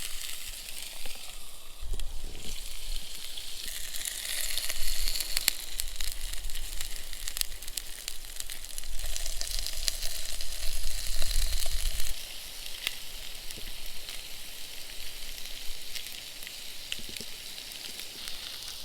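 Cutthroat trout and hash browns sizzle in a frying pan, making a continuous loud hiss with low rumbling bursts and faint clatter; no one speaks.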